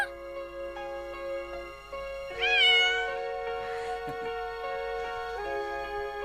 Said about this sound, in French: Beth a pensé que ce petit chaton vous distrairait un peu